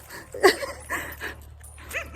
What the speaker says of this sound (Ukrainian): А знов собаки.